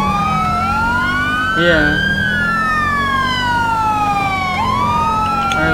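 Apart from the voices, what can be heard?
emergency vehicle sirens in LSPDFR video game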